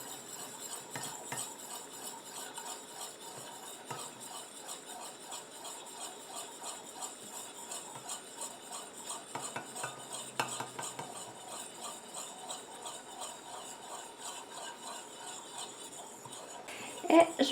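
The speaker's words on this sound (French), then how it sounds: "Et je continue à mélanger comme ça jusqu'à ce que mon émulsion épaississe et refroidisse." Hand cream emulsion being stirred by hand as the water phase is poured slowly into the oil phase: a steady, continuous soft scraping and swirling in a bowl, fairly close, with no voices.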